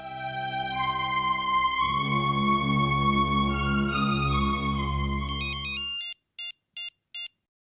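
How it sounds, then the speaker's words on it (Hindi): A phone ringtone plays a looping electronic melody loudly for about six seconds, then gives way to three short evenly spaced beeps against silence. "अच्छा तुम फोन तो लगाओ उसको।"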